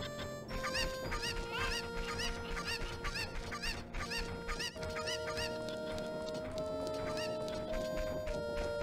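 Chickens in the video game The Legend of Zelda: Ocarina of Time, clucking and squawking repeatedly in a rhythmic, loud burst pattern over a layer of game background music.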